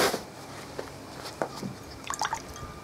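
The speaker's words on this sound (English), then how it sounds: "now we're just going to wet the leather to do some tooling" Water dripped and dabbed onto a piece of leather to wet it before tooling for medieval vambraces, a handful of soft, close drips and wet squishes spaced irregularly over a quiet background.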